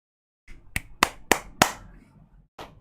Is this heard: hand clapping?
yes